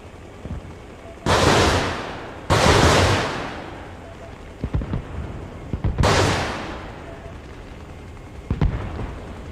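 Rockets launching in the military shooter Arma Reforger, three loud whooshing blasts a second or so apart with a lingering roar, plus a few smaller thuds between them.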